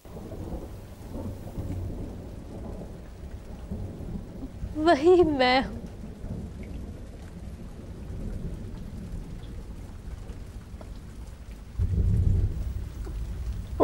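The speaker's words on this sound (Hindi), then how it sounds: "वैसी ही वर्षा हो रही है," Steady rain falls with low rolling thunder that swells near the end, while a voice speaks briefly over the downpour.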